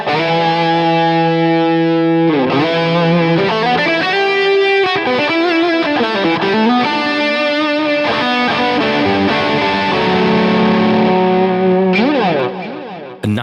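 Electric guitar through a Fractal amp modeler with a drive boost, a loud, saturated distorted tone ringing out chords and bending single-note lines with sustained notes, played alone without talking.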